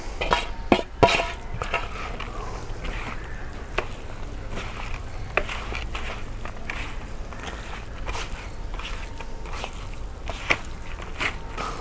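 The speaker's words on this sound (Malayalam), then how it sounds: "ഇനി നമുക്ക് ഈ കല്ലുമ്മക്കായുടെ മീറ്റിലിട്ടങ്ങായിട്ട് നന്നായിട്ട് മിക്സ് ചെയ്ത് എടുക്കാം" Green mussel meat (kallummakkaya) being mixed by hand with masala and coconut oil: soft, wet squishing and light scraping in an irregular rhythm, close up and moderately quiet, with an occasional sharper click of a utensil against a dish.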